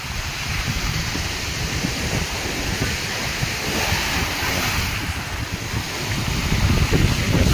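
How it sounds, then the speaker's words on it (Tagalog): Heavy ocean surf roars and crashes continuously during a strong monsoon wind, with strong wind buffeting the microphone and a rising surge toward the end. "Kalalaking alon."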